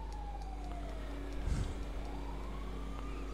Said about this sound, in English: Oh my god, the ambulance is still drivable!